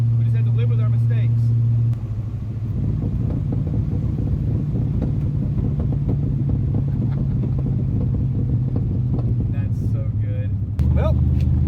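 A Buick Wildcat engine with its muffler cut off rumbles loud and deep throughout, steady and close, with a voice talking over it near the start and end.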